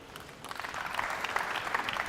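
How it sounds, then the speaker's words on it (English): Applause for Team Poland at the Predator World Teams Championship 10-ball pool event, a short burst of moderate clapping from a crowd, somewhat distant and building slightly toward the end. "can we have a nice round of applause for Team Poland"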